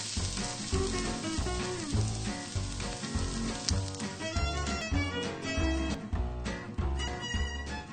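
Ground meat sizzles and fries in butter in a pan, a dense, loud crackling hiss with occasional stirring scrapes, steady throughout with no voices.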